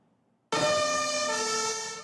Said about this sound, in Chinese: 消防车赶要去救灾